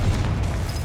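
Brief deep boom of a Confringo fire spell explosion in Hogwarts Legacy, a loud low rumbling burst filling the short moment, close and dense.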